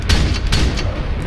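Gunfire in the video game Max Payne landing a headshot, a couple of loud, sharp bursts with low booming weight over a dense, continuous game soundscape, no voices.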